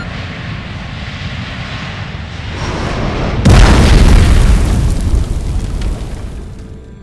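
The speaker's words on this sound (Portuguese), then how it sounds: "o voo 9525 da Germanwings colidiu diretamente com a encosta de uma montanha nos Alpes franceses" A roaring airliner engine builds to a sudden heavy boom as the Germanwings flight 9525 airliner strikes a mountainside in the French Alps, followed by a loud rumbling blast that slowly fades.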